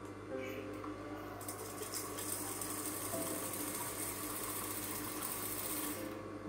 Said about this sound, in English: I'm going to sew it down to close that opening